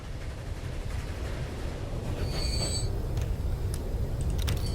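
Train running in Transport Fever 2, a steady low rumble of rolling wagons throughout with a brief high squeal or whistle tone partway through and a few faint clicks.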